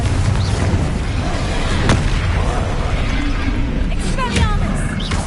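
Spell blasts in the Hogwarts Legacy video game, including Bombarda and Confringo, heavy booms and bursts over a dense low rumble of combat with voices in the fray.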